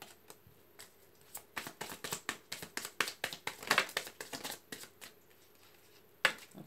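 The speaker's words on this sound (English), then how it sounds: "Okay, last shuffle." Tarot cards being shuffled by hand, a quick run of crisp riffling slaps and flutters in uneven bursts, close and fairly quiet, ending with one sharper snap.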